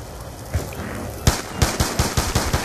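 Automatic gunfire in Call of Duty Black Ops 2 Zombies comes in a rapid burst of loud, evenly spaced shots close up over a steady game background.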